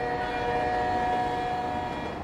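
In the video game Eden Crafters, a train rolls along a track with a steady mechanical rumble and sustained tonal hum, constant and fairly loud throughout, with no speech.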